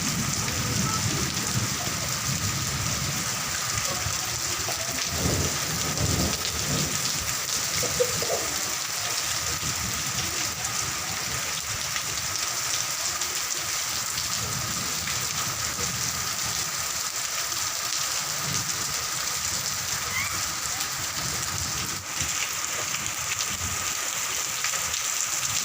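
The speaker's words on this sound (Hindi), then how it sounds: "कुछ टाइम बाद जो है ना बारिश बहुत ज़्यादा बढ़ गई थी" Heavy rain pouring steadily, a dense constant hiss of drops on surfaces with no letup throughout.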